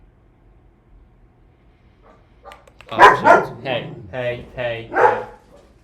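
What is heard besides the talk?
dogs barking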